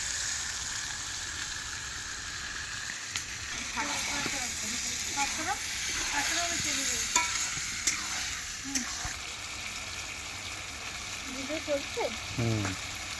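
Meat for a liver and stomach curry being sautéed with Sunrise meat masala over a wood fire: a soft constant sizzle broken by scraping stirs, with people talking intermittently over it.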